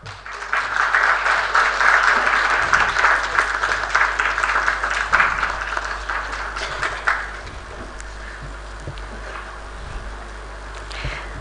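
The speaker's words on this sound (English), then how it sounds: "A big round of applause." A conference audience applauds loudly with steady clapping for about seven seconds, then the clapping thins out and fades.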